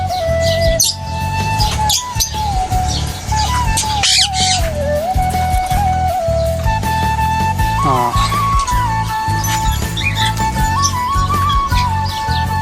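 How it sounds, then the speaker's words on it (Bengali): Small parakeets squawking and chirping close by, with repeated harsh calls and short whistles over a constant tonal background hum. "ছোট ছোট টিয়া পাখি দেখছেন"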